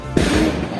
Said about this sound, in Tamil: வெடி வெடிக்கிறாங்க.